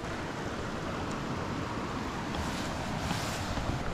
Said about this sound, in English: Have a look at this river.